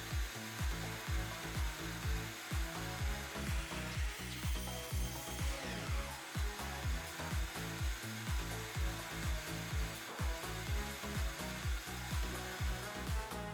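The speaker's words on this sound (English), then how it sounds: "I cut each board into 3 same length pieces by using my miter saw." A miter saw runs through cedar fence boards in a continuous, loud whine with steady rhythmic pulsing and a brief rising sweep midway through the cut.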